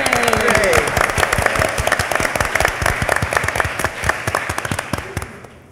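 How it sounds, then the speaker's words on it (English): An audience applauds a fashion journalist at a London fashion event, steady loud clapping with a brief voice at the start, continuing for several seconds before tapering off. "Suzy, let's give her a clap"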